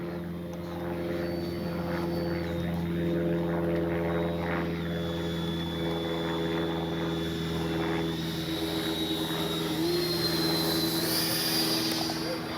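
A Freewing 90mm F4 Phantom II RC jet flies on a warm day, giving a continuous electric ducted-fan whine with shifting pitch as it passes, steady and fairly close throughout.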